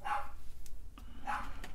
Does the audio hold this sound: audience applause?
no